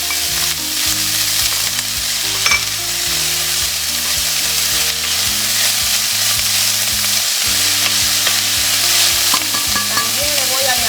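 Chopped peppers frying with chickpeas as they are stirred in a pan, a loud steady sizzle with scraping strokes of the spoon, over continuous background music.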